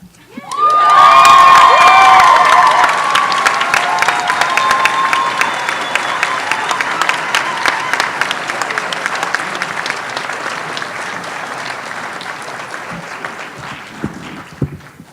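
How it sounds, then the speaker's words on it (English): A large crowd at a veterinary medicine oath and hooding ceremony bursts into sustained applause with cheers and whoops, loud at first and then settling into steady clapping that carries on for a long while. "You can clap now."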